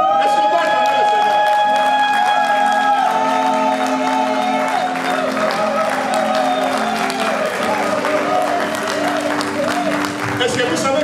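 Congregation at a church service applauding and cheering in praise of the Lord, a loud, sustained wash of clapping mixed with shouts and whoops filling the room, with voices rising throughout.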